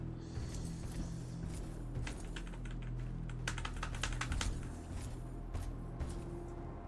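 Rapid clattering keystrokes on a worn computer keyboard during a Fallout: The Frontier game session, close and fairly quiet, in irregular bursts over a low steady hum.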